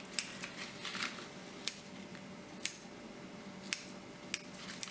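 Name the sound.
scissors snipping bread dough for marguerite bread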